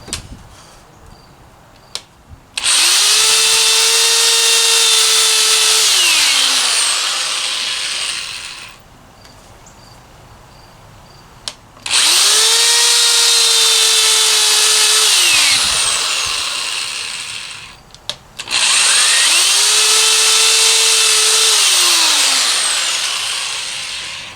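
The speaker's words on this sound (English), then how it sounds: "that's probably not safe to be drilling on your lap like that" A power drill whirs loudly into wood in three long bursts, each winding up, running steadily, then slowing, separated by quieter pauses.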